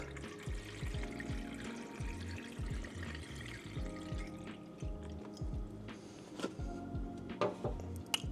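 Water pouring through the fill hole into a film developing tank for black and white film, a steady close trickle with gurgles and occasional drips, quiet and continuous, no talking.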